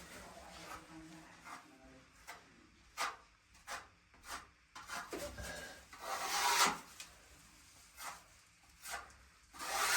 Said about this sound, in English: I'll scrape a little bit of filler here.